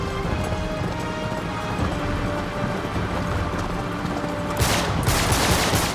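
Rapid bursts of gunfire in Uncharted 3 as shots target a vehicle tire, loud and dense, with a heavier flurry near the end.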